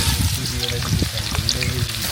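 Onions fry in a pan over a clay stove in a village kitchen while khichdi is cooked with garlic and dried chillies, giving a dense steady sizzle with stirring clatters.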